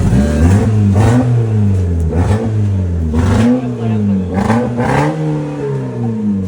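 A nearby vehicle engine revs repeatedly as it pulls away, its pitch rising and falling in waves, with people talking over it.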